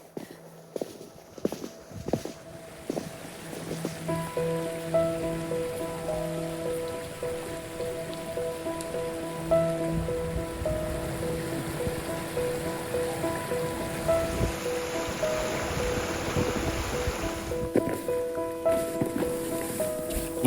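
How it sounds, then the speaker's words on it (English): Rain patters steadily on surfaces during a cold larch hike in the Canadian Rockies, a continuous wet hiss with scattered drips and footsteps, brief tonal whines layered over it. "The snow has turned to rain."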